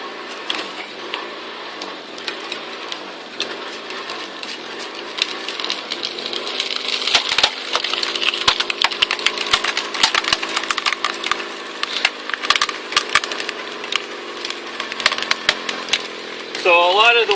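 A log splitter forces apart a piece of wood with a dense run of sharp cracking and splintering snaps. The snaps start sparse, then thicken into a loud, near, continuous crackle, and a motor hums steadily beneath.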